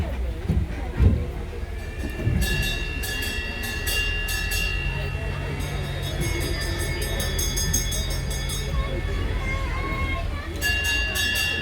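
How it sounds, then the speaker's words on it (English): A small train at Colchester Zoo rolls past nearby with steady rumbling and rhythmic clicking of wheels on rail, plus some high squealing, while a voice talks over it. "The other train is in front of us, just going to let it go past"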